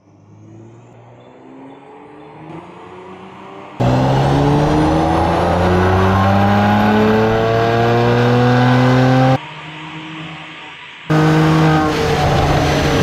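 Mercedes C43 AMG engine revving hard on a dyno power run, rising harmonic roars climbing through the gears, loud and close, with breaks between pulls and no talk.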